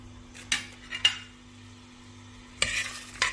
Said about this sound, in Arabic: نحطوا الزيت ونحطوا البصل، نقليوه بالكدا بالكدا